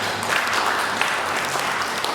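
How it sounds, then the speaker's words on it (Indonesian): Steady, dense applause from a forum audience at a provincial gathering, sustained and fairly loud throughout with no break, a crowd clapping together. "tepuk tangan."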